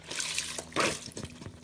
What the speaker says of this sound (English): Here is our broth. And you just kind of pour it in there.